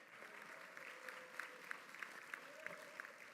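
Graduation-ceremony audience at Eastmoor Academy giving a sparse, faint round of applause, scattered claps ticking over a soft hall murmur, with no voices.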